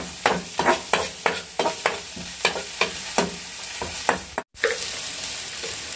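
Chopped tomatoes fry in a hot pan for an egg Maggi noodle dish, with a steady sizzle broken by about a dozen sharp, evenly spaced scraping stirs, close and loud, and a brief dropout near the end.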